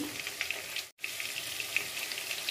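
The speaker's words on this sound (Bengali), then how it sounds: "পটলগুলো আমার ভাজা হয়ে গেছে" Pointed gourd fries in a pan for a moong potol dish, giving a steady close hiss of sizzling that breaks off briefly near one second and then resumes at the same level, with no voices.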